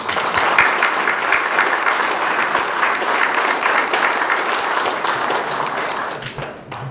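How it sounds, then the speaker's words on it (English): A round of applause from an audience at a Women, Peace and Security event in Suriname, honoring an honor platoon: loud, sustained clapping filling the room, steady throughout and tapering off near the end. "we're all going to give you a round of applause"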